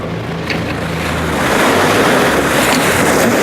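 Propeller wash churning water at the stern of a Sirius 40 DS yacht as it manoeuvres, a loud, steady rushing wash that swells and grows fuller partway through, with low engine rumble underneath and no speech.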